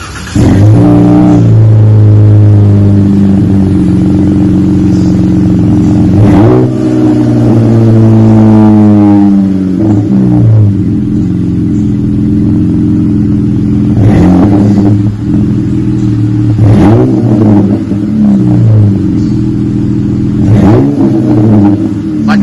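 A 2020 Dodge Challenger with Flowmaster 40 Series mufflers idles with a deep, mellow exhaust note and is revved several times, each rev rising and falling, loud and close.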